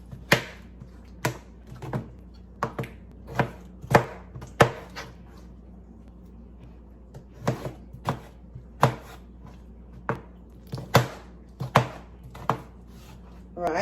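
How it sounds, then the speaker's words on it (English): Knife chopping a tomato into cubes on a board for a salad, a series of sharp, evenly spaced thuds with a short pause midway, close and clear with no talk. "I'm going to slice the tomato. I'm going to slice it in some cubes."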